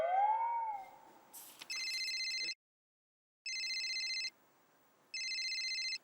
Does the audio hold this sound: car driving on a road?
no